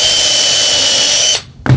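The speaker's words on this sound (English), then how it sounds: "So I use this 1/8 of an inch bit for pre-drilling." A power drill with a 1/8 inch bit pre-drills a cabinet face frame, a steady close high whine for over a second, then a brief stop and a short burst as the trigger is squeezed again.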